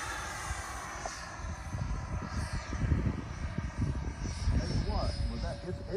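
An Avanti 8S electric ducted-fan jet model flies on its maiden flight, giving a steady whooshing roar that swells and fades as it passes, with outdoor background noise around it.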